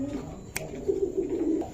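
Pigeons cooing in a bird market pen, a brief low coo close by with faint background noise.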